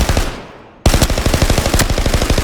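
Z6 gun firing in the video game Arena Breakout: Infinite, a short automatic burst that stops briefly, then a longer rapid stream of loud, evenly spaced shots, close and alone.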